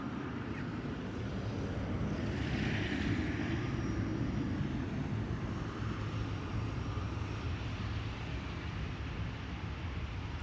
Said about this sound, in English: the landing coinciding with a wide body taking off here from this runway